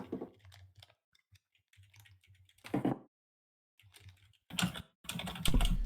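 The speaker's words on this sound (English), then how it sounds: "I'm playing with this this dice. I can't help it. It's making noise." Dice rattled and played with in the hand at a Dungeons & Dragons tabletop game, producing close clicking, clattering bursts separated by brief pauses.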